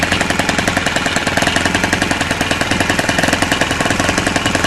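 A small antique Kalt .45 four-stroke model engine runs continuously with a fast, steady mechanical chatter, loud and close, with no talking.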